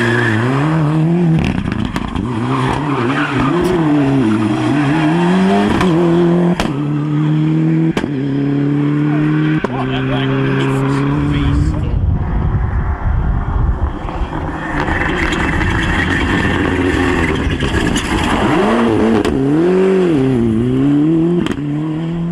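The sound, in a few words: Ford Puma four-wheel-drive rally car driving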